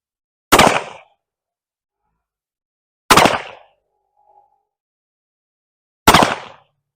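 Three sharp, loud reports from an 1849 Colt Pocket Model black powder pistol ring out about three seconds apart, each decaying quickly into near silence.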